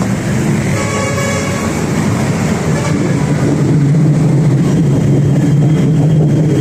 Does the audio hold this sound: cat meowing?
no